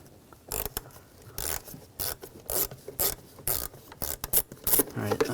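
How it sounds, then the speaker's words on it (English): A ratchet fitted with an 8mm socket loosens a worm clamp on the intake of a 2013-2019 Ford Escape, giving repeated close, crisp ratcheting bursts in an irregular back-and-forth rhythm. "Loosen up this worm clamp right here,"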